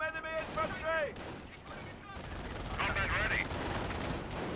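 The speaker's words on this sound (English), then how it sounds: "The Wehrmacht player did get a machine gun into this barn, which is going to pin down this whole area right here" In the real-time strategy game Company of Heroes, a Wehrmacht machine gun in a barn fires long rattling bursts mixed with other rifle fire. Someone talks over the steady shooting.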